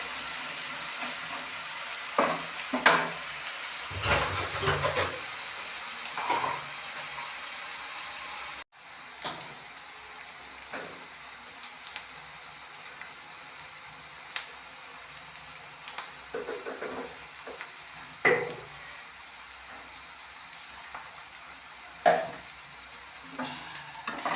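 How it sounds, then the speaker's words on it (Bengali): Potato and onion paste fry and get stirred in a pan in a village kitchen, with a soft sizzle under scattered scraping stirs and clinks, close and fairly quiet, with no voices. "আলুর সাথে পেঁয়াজটা একটু ভাজা ভুজা হোক"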